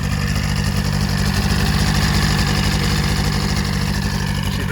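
A Polaris 700 XC SP snowmobile engine idles steadily and close, a dense even low-pitched rumble with a fast regular pulse that holds without revving or stopping.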